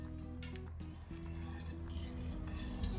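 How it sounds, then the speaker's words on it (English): A whisk clinks against a pan as butter slowly melts for a Guinness chocolate cake: light, irregular metallic taps and scrapes over a low steady hum, close up. "So we'll just continue to melt that slowly and just whisk that together."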